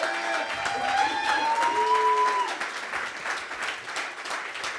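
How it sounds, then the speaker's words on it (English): Audience applause for speaker Kim Kinney at a Central Oregon PubTalk evening, a steady wash of clapping with a few faint whistles early on, slowly thinning toward the end. "How about another round of applause for Kim Kinney?"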